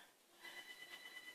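A telephone rings faintly in a workshop where drawer boxes are being made, a steady electronic trill with repeating pulses lasting the full moment, distant and alone without talk.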